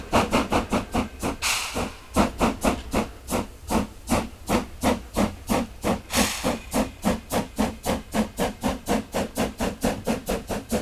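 A steam locomotive works through the Swiss mountains with a rapid, rhythmic exhaust chuff, steady repeated hissing beats at close range, with two brief bursts of louder steam.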